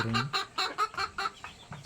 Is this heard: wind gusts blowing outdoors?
no